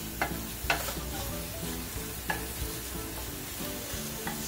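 Onions sizzling in a hot pan, a steady crackling fry broken by several sharp scrapes and knocks of a utensil stirring them, with no talking.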